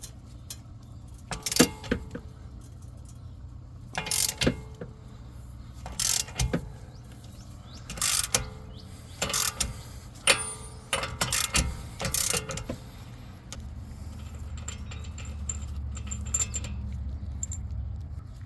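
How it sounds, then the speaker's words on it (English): Extended-handle ratchet worked against a wheel bearing on a Dodge Dart: bursts of sharp metallic clicking and clattering in irregular groups, close and moderately loud, separated by short pauses, with a low background hum. "Let's see if we can get it with our extended handle ratchet."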